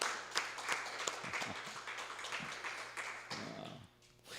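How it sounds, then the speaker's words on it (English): A church congregation at a Sunday celebration gives a band a moderately loud round of scattered clapping, thinning out toward the end. "Should we give them another round of applause?"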